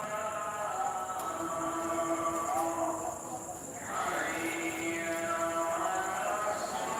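A train at Sylhet railway station rumbles on with drawn-out tonal squeals rising and falling over a continuous platform din, moderately loud and steady throughout.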